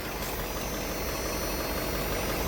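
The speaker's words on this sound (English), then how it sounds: "it doesn't sound too bad. Sounds like a regular diesel." A diesel truck engine idles at close range, a steady, continuous low rumble with a faint knocking texture, running alone with no voices over it.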